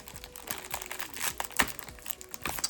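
Beyblade toy packaging being cut open, irregular crinkling and crunching of plastic and cardboard with small snips, close and fairly quiet, no talk.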